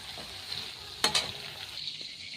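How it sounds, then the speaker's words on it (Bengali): Prawns frying in a pan give a steady, close sizzle with a couple of brief sharp crackles midway, then the hiss thins out toward the end. "চলো চিংড়িগুলো আগে ভেজে নিই"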